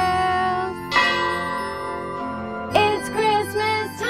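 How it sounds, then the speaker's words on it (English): Navy ship bells ring out aboard a warship deck at Christmas, with sustained metallic strikes at about one second and again near three seconds, their tones ringing on against a layered musical background. "And on every ship deck you'll hear Navy bells."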